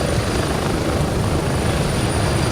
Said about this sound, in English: I can't hear you because of this damn helicopter.